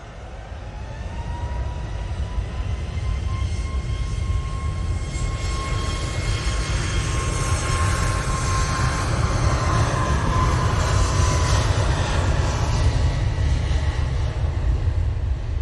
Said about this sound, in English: A bit of a stick on this Ryanair, going off to Cologne Bonn Airport using 737 MAX 8